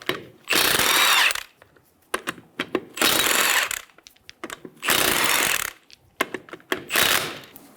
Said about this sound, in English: Using a 19mm socket, remove the 4 lug nuts.